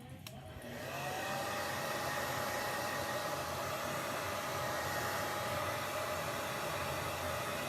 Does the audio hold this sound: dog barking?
no